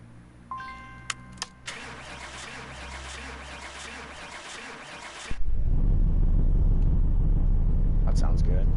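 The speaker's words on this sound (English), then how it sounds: "So this thing will start." A few electronic beeps and chimes, then a starter cranks and a car engine catches, settling into a loud, steady idle, in the video game Car Mechanic Simulator.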